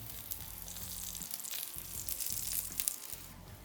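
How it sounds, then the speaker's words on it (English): Onions frying in oil on a grill, giving a steady, fairly quiet sizzle and crackle that runs the whole time with a low hum beneath. "that oil sticks to the onion and starts frying it"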